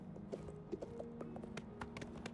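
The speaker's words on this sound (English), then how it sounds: "this is me riding a horse in first person" Horse hooves clip-clop in a steady rhythm as a rider travels in first person in Oblivion Remastered, the close, quiet hoofbeats sitting over a low hum.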